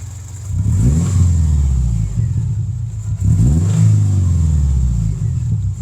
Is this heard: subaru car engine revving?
yes